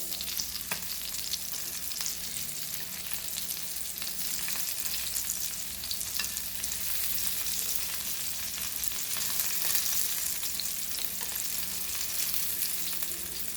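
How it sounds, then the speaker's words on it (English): Rava-coated Goan mackerel (bangda) fries in a pan, giving a constant, moderately soft sizzle that carries on evenly for over ten seconds without speech. "So like this only flip-flop and fry crispy."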